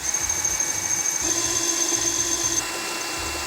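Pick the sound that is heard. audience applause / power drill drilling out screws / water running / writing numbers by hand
power drill drilling out screws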